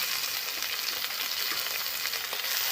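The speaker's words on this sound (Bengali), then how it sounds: "পেঁয়াজগুলো আমার বাদামি কালারে ভাজা হয়ে গেছে।" Chopped tomatoes and browned onions fry in a pan with a steady, close sizzle of hissing crackle that holds without a break and has no voices over it.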